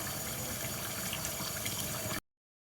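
Running tap water pours steadily while makeup brushes are washed, a close, even hiss that stops abruptly just after two seconds, leaving silence.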